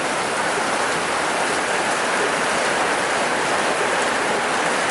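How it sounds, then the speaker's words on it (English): Heavy rain pouring down outside, a dense, steady hiss of water falling on surfaces, close and loud throughout with no talking. "another rainy day. Just as I put my towels out. It's like literally flooding outside."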